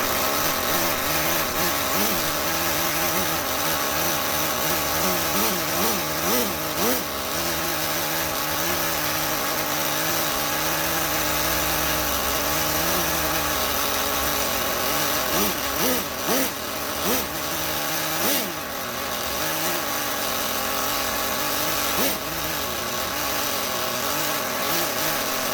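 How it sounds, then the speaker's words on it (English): Small nitro engine of a Traxxas Jato RC car, a heavily abused model being restored, runs steadily and loud for the whole stretch, revving up and down in repeated surges with a buzzing, chainsaw-like tone. "So I do want to fire it up and hear it run."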